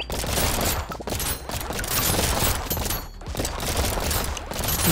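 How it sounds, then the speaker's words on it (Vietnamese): Pistol fire rattles rapidly and continuously in the Brotato game, a dense, loud stream of shots crowded with swarming enemies at ten times the usual number, with no voice over it. "Khẩu lục này nó bắn cũng kinh mà."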